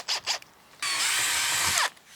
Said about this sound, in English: That's why I said use an 8mm drill bit.